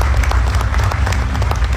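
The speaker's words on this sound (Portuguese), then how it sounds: "uma salva de palmas a cada um de vocês" Applause from an audience at an awards event, brief, loud and continuous clapping from a crowd with no pauses.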